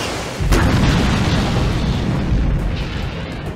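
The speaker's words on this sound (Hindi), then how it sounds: "मैंने बम तैयार कर लिया है और जा रहा हूं।" A loud bomb blast in a Hindi-dubbed Hollywood action film erupts suddenly and roars on as a sustained, rumbling explosion, with no speech over it.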